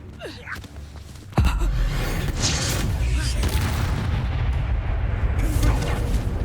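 Confringo blasting spell in the video game Hogwarts Legacy, a sudden loud boom that gives way to a sustained roaring, crackling rumble lasting several seconds.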